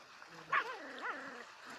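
A puppy being fed rice makes a short, high yip and soft whimpering whines, close and moderately loud, with fainter whimpers that rise and fall afterward.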